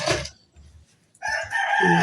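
A rooster crows loudly nearby, a long strained call following a few softer clucking sounds.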